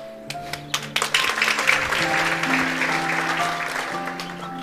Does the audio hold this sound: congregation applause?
yes